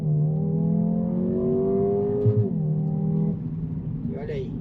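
The engine of a 2024 Mercedes-AMG CLA 35 holds a strong, steady high-rev drone on launch control, then drops and climbs again as the car pulls away; a voice can be heard over it.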